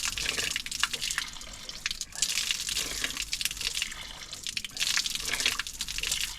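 Water pours and splashes steadily from a naula dhara mountain spring in an Uttarakhand village, a close, continuous flow with dripping and spattering that surges at intervals.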